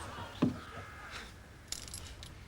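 A set of car keys drops with a sharp metallic jingle, followed by a second lighter clink, faint and close in a quiet room.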